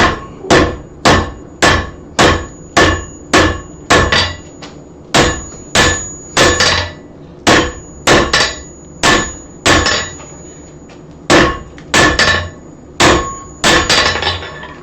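A blacksmith hammers hot steel to draw out a holdfast, dealing steady ringing blows close by, about one per second with brief pauses, loud and without talk.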